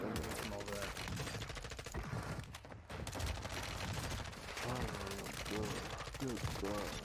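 Rapid bursts of M4 rifle fire in a shooter game, dense repeated cracks of gunfire with other weapons chattering around, while players talk over the shooting.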